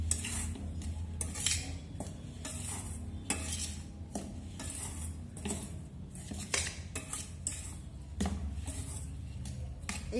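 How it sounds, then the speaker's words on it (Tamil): A spoon clinks and scrapes in a bowl as ragi flour is stirred together with coarsely ground peanut and jaggery, a steady run of close, irregular metallic taps and scrapes with no talking. "இப்போ இத இந்த மாவோட மிக்ஸ் பண்ணிக்கலாம்."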